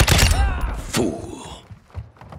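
Gunfire in the video game Call of Duty: Modern Warfare II, a loud burst of shots up front followed by a second report near one second, then scattered fainter thuds as the fighting trails off.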